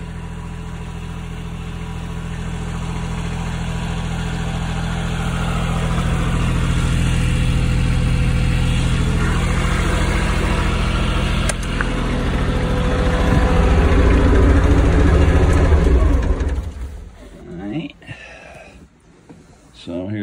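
A Toro Groundsmaster tractor fitted with a 50-inch snow blower runs with a steady, deep engine drone at close range, swelling slightly before dropping away near the end, with talk over it.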